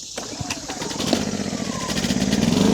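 A 2500W portable inverter generator is pull-started, a short cord yank followed by the small engine catching and settling into a rising, steady running drone, close and fairly loud.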